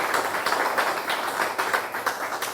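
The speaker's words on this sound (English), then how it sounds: "you have a right to clap for him" An audience claps for a guest: brisk, continuous crowd applause, fairly even and moderately loud, with no talking.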